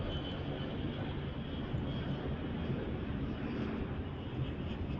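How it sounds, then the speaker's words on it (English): Continuous distant roar of a jet airplane passing overhead, broad and steady, faint and unbroken for several seconds. "That sounds like an actual airplane that's going over."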